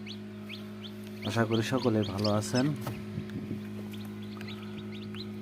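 Tiger breed chickens in Jamalpur, Bakshiganj, break into a short burst of rapid clucking while someone speaks nearby, set over a constant low electrical hum.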